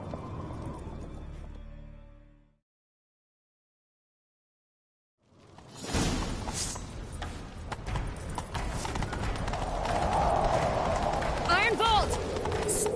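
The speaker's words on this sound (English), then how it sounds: "Grab a horse, we'll chase him down." Horse hooves gallop in a medieval fantasy game, The Witcher 3, a fast clip-clop rhythm under music and effects after a brief silence, with in-game voices speaking.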